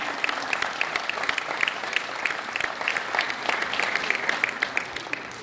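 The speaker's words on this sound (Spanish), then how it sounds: "Fuerte el aplauso para Iván." Community crowd at a Christmas food-basket handout in Tierra Blanca claps steadily, a moderately loud patter of individual hand claps with distinct sharp hits, continuing without speech.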